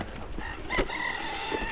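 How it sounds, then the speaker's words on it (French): Rooster crowing outdoors on a rural mountain-bike loop, one fairly clear crow heard over steady wind and riding noise, moderately distant. "Ouais, le coq."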